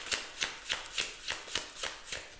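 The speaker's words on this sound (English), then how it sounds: "I'm going to finish the shuffle and see if anything else wants to come out." Tarot cards being shuffled by hand in repeated riffling bursts, about eight evenly spaced crisp flutters close up, with no talking.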